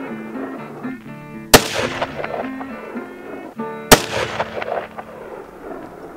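Two sharp, loud rifle shots from a custom 6.5 rifle at an outdoor range, each a hard crack with a rolling echo, about two and a half seconds apart, heard over a faint background tone.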